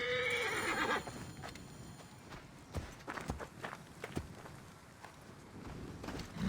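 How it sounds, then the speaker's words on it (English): A horse in the video game Assassin's Creed Origins whinnies loudly near the start, then its hooves clip-clop in scattered steps that fade and return, with no talking. "I have horses for us nearby."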